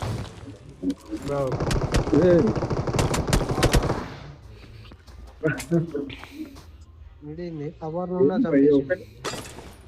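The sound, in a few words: AWM sniper rifle gunfire in a video game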